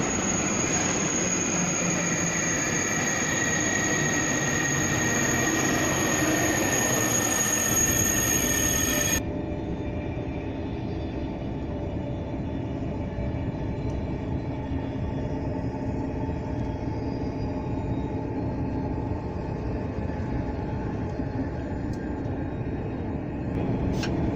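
A Thalys train pulls into a station platform, loud wheel squeal and rolling rail noise dominating at first, then dropping to a lower steady rumble as it slows, with no talking.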